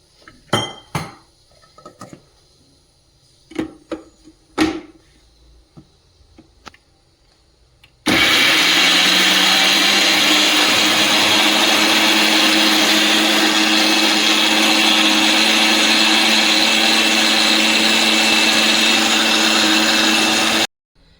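An electric mixer grinder grinds sambar masala with freshly grated coconut for Malabar spinach sambar. A few clinks and knocks of kitchenware come first, then the motor starts abruptly and runs loud and steady for about twelve seconds before cutting off.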